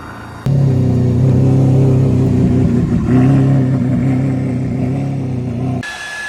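A Ferrari engine revs loudly and steadily up close for several seconds, easing briefly around the midpoint before climbing again and then cutting off near the end, with no talking over it.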